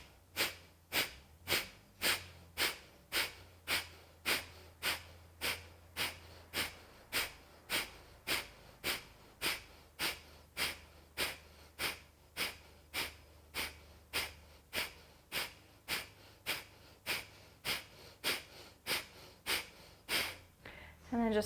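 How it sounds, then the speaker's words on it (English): A person does yoga breathing with rapid forced exhales through the nose, giving a long, even series of sharp, close puffs at a steady rhythm of just under two per second. "take a deep inhale into the nose and then start your forced exhales"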